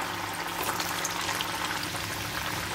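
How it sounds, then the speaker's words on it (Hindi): Potato kofta balls fry one by one in hot oil over a medium flame. A soft, continuous bubbling crackle holds at an even, low level close by, with no voices. "अब हम इसमें कोफ्ता डाल देंगे एक एक, और मीडियम कर लीजिए उसकी फ्लेम को"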